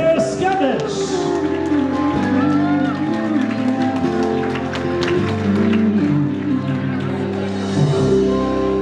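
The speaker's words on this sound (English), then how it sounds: "big round of applause once again for Mr. and Mrs. Tereskevich" Wedding guests applauding and cheering for the newlyweds at a reception, a crowd of claps and shouts layered under loud, steady dance music filling the room.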